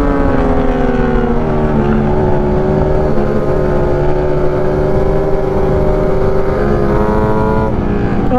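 A C9 engine revs hard toward its 11,000 RPM redline, a loud, sustained, buzzing drone that holds high pitch with slight rises and dips throughout.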